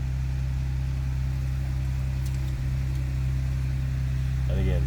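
A 2021 Ford Bronco Outer Banks with the 2.7-liter EcoBoost V6 idles close by, a steady, even low drone that holds level from start to finish.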